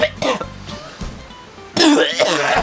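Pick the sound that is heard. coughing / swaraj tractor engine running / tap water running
coughing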